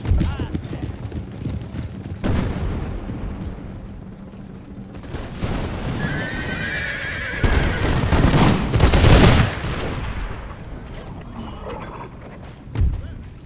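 Musket volleys crack out in a video game battle between Imperial Russian troops and Arab tribesmen, scattered shots and a louder burst of fire amid horse hooves and battlefield noise, with voices talking over it.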